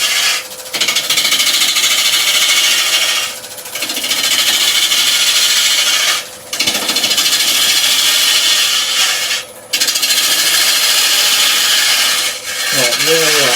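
A wood lathe turning a piece of UK fan palm, with the tool cutting in long scraping passes broken by brief pauses, loud and close, ending as the lathe winds down.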